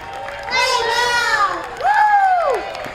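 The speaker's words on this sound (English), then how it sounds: "Got a packed crowd." A packed crowd at a concert venue keeps up a dense, lively roar of overlapping voices, with shouts and excited calls rising out of it.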